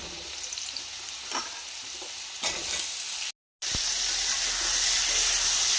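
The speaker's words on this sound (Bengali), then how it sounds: "সবগুলো দিয়ে আলু ভেজে নিচ্ছি। আলুর সাথে পটলগুলো দিয়ে দেবো।" Continuous hissing sizzle of potatoes and pointed gourd frying in oil, close up, with occasional stirring clatter and a brief cut to silence midway.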